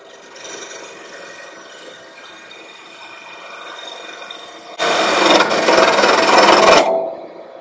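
A wood-turning gouge cuts on a lathe with a steady rough scraping hiss, then a sudden much louder, harsher tearing burst as the tool catches, lasting about two seconds before stopping abruptly.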